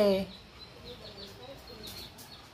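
A voice speaks briefly, then small chicks cheep in thin, high, repeated peeps, soft and close.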